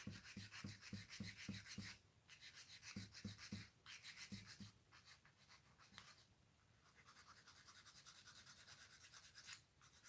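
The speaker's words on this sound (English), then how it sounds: "Okay, so we sand it." Small plastic part of a 1/48 Eduard Tempest scale model sanded by hand, quick rhythmic rasping strokes in bursts close up, then softer steady rubbing, with no talk.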